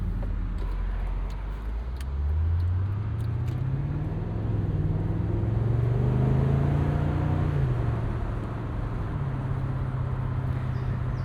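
A 2003 BMW Z8 Alpina V8 roadster cruises at highway speed, giving a steady low rumble with an engine note that swells and rises gently under the road noise.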